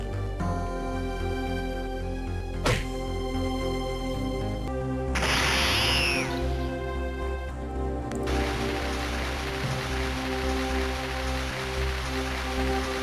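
Heavy rain hisses steadily in the video game Legacy of Goku 2, a dense wash that swells and stays loud under the game music.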